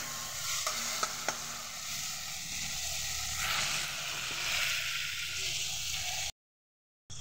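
Chopped tomato with salt stirred into hot oil in a pan, a steady close sizzle and frying hiss with occasional scrape and clink of a spoon, continuous for several seconds before a brief cutoff.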